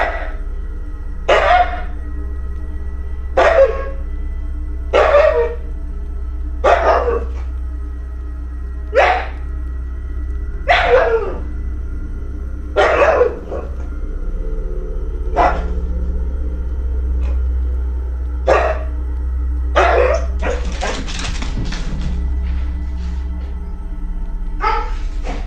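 A dog barks in security camera footage, single sharp barks repeating every second or two at fairly close range, with a quick cluster of yips near the end over a low steady hum.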